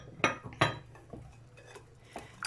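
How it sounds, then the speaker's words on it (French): A utensil clinks against a bowl as cake batter for a sugar-free date-powder cake is mixed, two sharp close knocks followed by softer scattered taps and scraping. "Donc vous continuez à mélanger."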